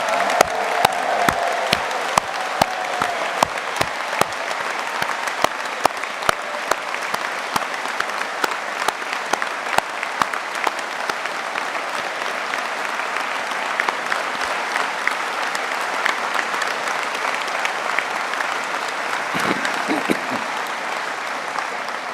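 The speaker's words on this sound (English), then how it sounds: "I'd like to ask everyone to offer a round of applause to all you graduates" A large audience applauds graduates at the close of a university summer graduation ceremony, loud continuous clapping with distinct near claps popping out, fading gradually toward the end with a brief low voice near the finish.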